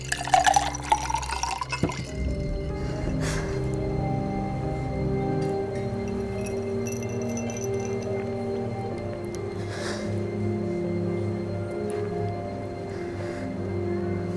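Drinking water is poured, a short rising liquid fill at the start, followed by a low, steady background.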